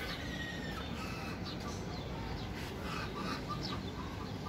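Ducks and chickens kept on a rooftop cluck and call continuously in a busy, overlapping flock chatter, close and fairly loud with no talk.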